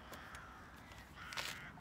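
Several crows caw outdoors in Germany, a few harsh calls at moderate distance spread across a short stretch over a steady background hum.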